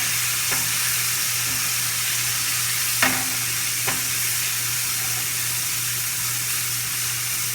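Garlic sizzles and crackles steadily in a hot stir-fry pan over medium heat, a constant close frying hiss with a few brief sharper pops and stirring scrapes along the way.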